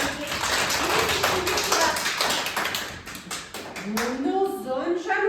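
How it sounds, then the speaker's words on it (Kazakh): Children in a classroom clap together in a quick, dense burst of hand claps lasting a few seconds, then a voice starts talking over the room. "Қане шапалақтаймыз"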